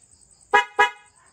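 An aftermarket loud horn fitted to a Rusi Macho 175 motorcycle gives two quick, sharp, close honks in rapid succession against near silence.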